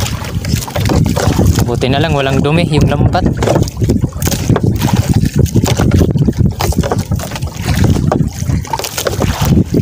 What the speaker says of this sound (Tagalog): Lalaki talaga ng mga alon mga idol, oh. Sumasayaw yung bangka namin.